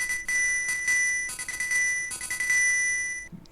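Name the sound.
coral triangle instrument playing one note, Link's Awakening DX video game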